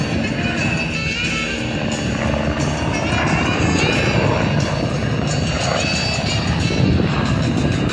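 Steady, loud engine roar with a throbbing rotor chop, continuous throughout, like a Red Bull display helicopter running close by at an air show.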